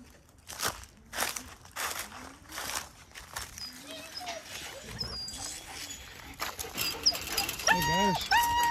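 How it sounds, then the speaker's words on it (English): German Shepherd puppies whimper and yelp in short, high, wavering cries, with light pattering and scuffling around them, growing busier and more insistent toward the end. "Take a look at some puppies."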